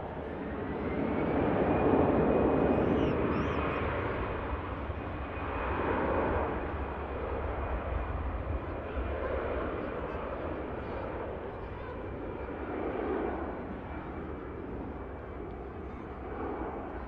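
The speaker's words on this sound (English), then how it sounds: "EasyJet on the roll now." An EasyJet airliner on its takeoff roll at Manchester Airport, a long broad engine roar heard from a distance that swells and eases in waves, holding steady and loud for the whole stretch.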